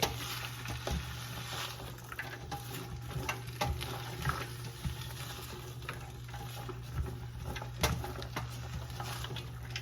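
Aromatics sauteing lightly in a pan for a canned lentil dish, with a soft steady sizzle and scattered stirring clicks and scrapes throughout, alongside a constant low hum.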